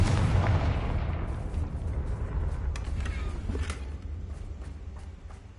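A Confringo fire spell exploding in the Hogwarts Legacy video game, a loud booming blast at the start that rolls into a sustained rumbling roar, with crackling bursts scattered through the tail.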